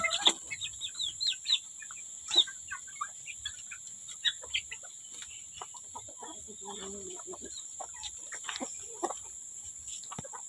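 Rhode Island chickens in a coop clucking and calling, a scatter of short clucks and cackles at varied distances over a quiet background, with a voice briefly audible.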